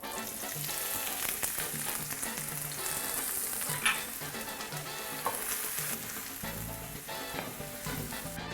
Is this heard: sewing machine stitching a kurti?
no